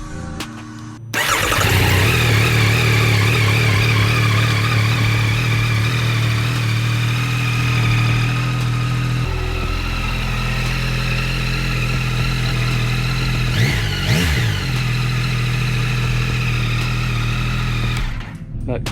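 Yamaha R9 motorcycle engine starting up, then idling with a steady throb and a few revs, close and loud for most of the stretch, with brief talk over it.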